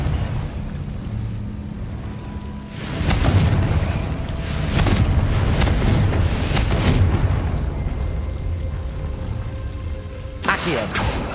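Confringo blasting spells exploding in the video game Hogwarts Legacy, several loud booming bursts breaking over a rumbling game soundscape, with a voice calling out between them.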